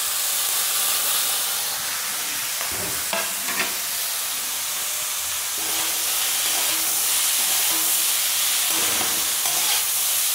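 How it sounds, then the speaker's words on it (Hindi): Chopped cabbage and mixed vegetables fry for veg chowmein, a steady loud sizzle and hiss with intermittent stirring scrapes and clatters running throughout, close up and with no voices. "अब ये हम सब्जी सारी अपनी फ्राई कर लेंगे"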